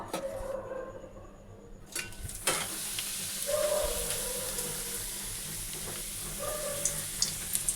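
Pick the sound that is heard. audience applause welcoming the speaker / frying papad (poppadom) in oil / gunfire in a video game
frying papad (poppadom) in oil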